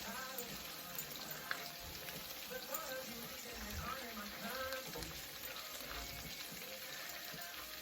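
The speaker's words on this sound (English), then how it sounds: "It just fries up really nicely" Chicken gizzards sizzle and fry steadily in an old wok, a constant dense crackle with faint clinks of stirring and no pauses.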